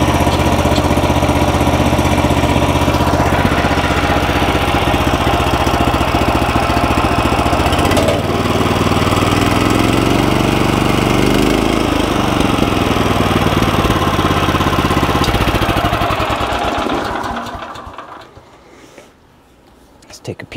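A DK2 stump grinder engine running steadily just after its first start-up, a continuous loud mechanical drone that holds for most of the stretch before cutting out and falling quiet near the end.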